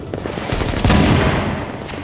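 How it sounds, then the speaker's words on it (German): Enemy gunfire in The Division, a dense burst of rapid automatic shots with heavy, loud impacts peaking midway, no voices over it. "Die schießen nur auf mich."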